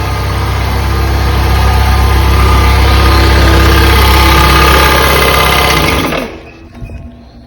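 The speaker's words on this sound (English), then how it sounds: "Compressor kicked on." An air compressor runs steadily in a garage workshop, a loud continuous motor drone with a strong low hum, then cuts off abruptly near the end, leaving quiet with a few faint knocks.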